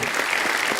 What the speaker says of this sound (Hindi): जोरदार तालियां कैटरीना के लिए।